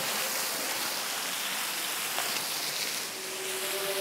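A waterfall near Arilje roars steadily, a dense, loud, continuous rush of falling water close by.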